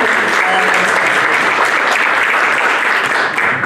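Loud, dense applause from a panel audience for Father Hayen at a Guadalupe mission event, sustained evenly throughout with no break, close and full.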